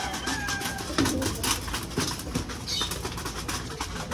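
Pigeons being fed coo softly and repeatedly, several birds close together, with light fluttering and scuffling among them.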